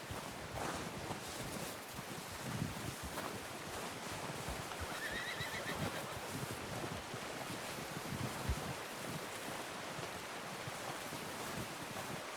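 A horse whinnies in the Red Dead Redemption 2 video game, a faint neigh buried in steady wind and surf-like ambience, with hoof clip-clops scattered through a long stretch of outdoor game atmosphere.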